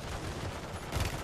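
Dense gunfire from the video game Call of Duty, a loud continuous burst of overlapping shots filling the whole moment with no voices.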